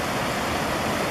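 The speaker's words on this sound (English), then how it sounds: "There's a waterfall." Waterfall on the Crystal Falls trail, a steady dense roar of rushing water, loud and unbroken.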